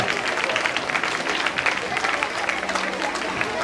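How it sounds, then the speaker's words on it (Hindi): A crowd at a Janmashtami celebration applauds children after their drama performance, a dense, even stretch of clapping throughout. "तालियां इन बच्चों के लिए, तालियां।"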